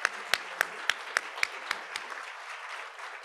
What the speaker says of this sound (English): a round of applause for Steve for throwing this together